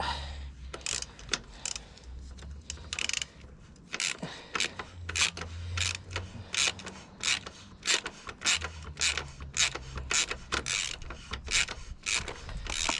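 A spanner ratchets in quick, regular clicks while a 2011 Triumph Tiger 800XC is being lowered in a workshop. The metallic clicking is close, over a faint background hum, with no voices.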